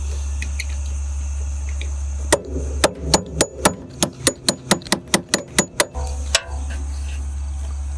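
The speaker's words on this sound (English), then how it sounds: "So hammer and punch." About a dozen sharp metallic hammer blows in a quick, steady series, ringing against a punch driving out a pop-up camper roof handle pin, over a low constant hum.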